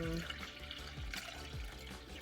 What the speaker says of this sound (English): I'm gonna pour my milk into this one